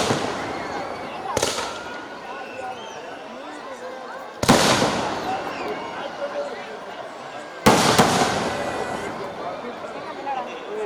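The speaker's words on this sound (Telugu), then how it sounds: "మన పాలమూరు దసరా రాకెట్లు పైకి వెళ్తున్నాయి" Three sharp whooshing bursts of fireworks rockets launch at intervals at a Dasara fireworks show on the Boys College Ground in Mahabubnagar, each a sudden loud hiss that trails off, over a busy crowd murmur.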